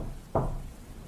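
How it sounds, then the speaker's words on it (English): A single sharp knock at a door, heard once as a short burst against a quiet, low background hum. "I hear a knock at the door."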